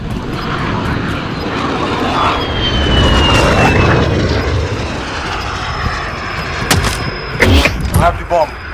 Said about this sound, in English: VTOL jet, ready.